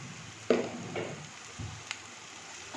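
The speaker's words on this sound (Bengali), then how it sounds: "আবার ভালো করে এটাকে একটু মিশিয়ে দেবো হলুদের সঙ্গে সবজিটাকে" Vegetables with turmeric being stirred in a frying pan over a faint, steady sizzle, with a couple of soft scraping strokes of the spoon.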